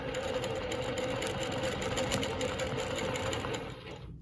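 A longarm quilting machine stitches a Baptist fan pattern with a fast, steady mechanical chatter of rapid needle strokes, loud and close, slowing and stopping near the end.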